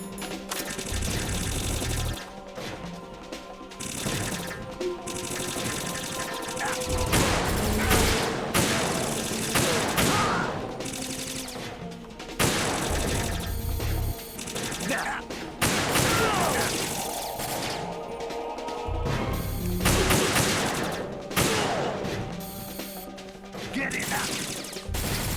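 Rifle fire from a sniper weapon in Metal Gear Solid 2 rings out repeatedly as loud, sharp shots and crashes over dense game noise, with bursts spread across the stretch.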